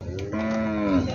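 A bull gives one loud, close moo with a drawn-out tonal low, rising at the start and holding for about a second, heard alone.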